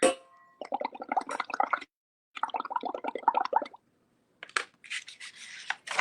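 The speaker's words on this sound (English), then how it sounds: "Gonna blow some more bubbles." Air blown through a straw into a dish of dish soap paint, giving bursts of bubbling, gurgling froth in two runs with a short pause between, close up, followed by a few brief rustles and taps.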